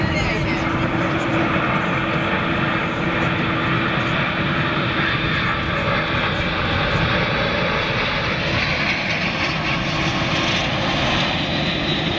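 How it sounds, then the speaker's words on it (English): Steady, loud roar of a Boeing 747's second jet engine spooling up at London Heathrow, a broad continuous rumble with a rising whine, while people talk over it. "Hear that second engine starting up."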